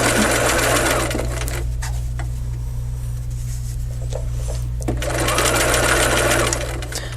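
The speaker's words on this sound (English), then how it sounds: "I'm going to sew to the slit." A sewing machine stitches pieced fabric up to a slit, its motor buzzing in a loud, steady close whir that eases briefly in the middle before resuming full speed.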